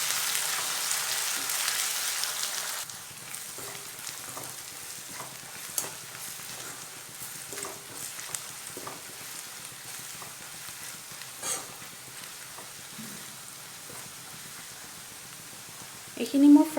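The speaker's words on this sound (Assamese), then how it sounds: "এতিয়া মই আদা ৰচুনখিনি খুন্দি থোৱা দি দিম। আৰু ভালকৈ পিয়াজখিনিৰ লগত ফ্ৰাই কৰি ল'ম।" Onions frying in a pan with crushed ginger and garlic for a local chicken curry: a steady soft sizzle with scattered stirring scrapes and a louder knock at the very end.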